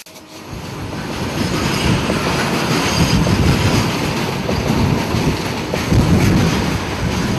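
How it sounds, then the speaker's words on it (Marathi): A passenger train arriving at a station, heard as a loud, steady rumble of rolling wheels and carriages that swells early and stays broad and continuous throughout, with some wind buffeting and no talk. "ही पळय ट्रेन आयली, हाचेर तो येता आसतलो."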